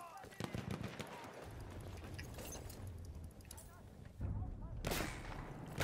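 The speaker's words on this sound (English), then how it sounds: "I'm getting sniped at." Sniper gunfire in an online multiplayer shooter, with several sharp shots cracking over a busy, continuous battle din, a heavier blast landing near the end.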